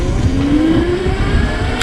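A 52V upgraded Razor electric bike motor accelerating: loud, steady whine rising in pitch across the whole stretch, close and continuous with no talk.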